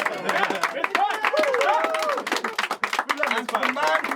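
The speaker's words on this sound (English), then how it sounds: "a round of applause for Cicely and for Martin" Clapping from a small group gathered in a home music recording setting, thanking two performers after a Christmas-time gathering, mixed with cheerful voices and whoops over the claps throughout.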